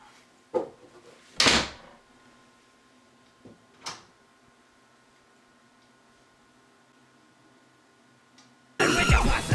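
Doors slamming shut in a horror video game, three sharp separate thuds with quiet gaps between them, followed by a burst of loud static at the end.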